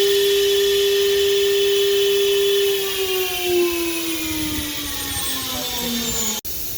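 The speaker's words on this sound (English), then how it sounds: "I press it. You will see the spindle is running." The spindle of an oscillating knife cutting machine with a CCD camera runs with a steady high whine that gradually slides down in pitch while a broad mechanical hum continues, ending with a sharp click.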